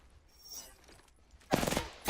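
Enemy gunfire in the battle royale game Apex Legends, a loud rapid burst of automatic shots arriving late after quieter game ambience with faint distant pops.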